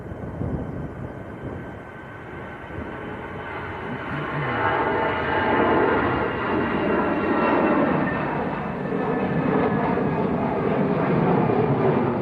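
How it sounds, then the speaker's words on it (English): An EasyJet Airbus A320 jet departs Manchester Airport on a windy day. Its engine roar builds from a moderate rumble to a louder, sustained wash of sound with wind noise mixed in. "This is EasyJet to Amsterdam,"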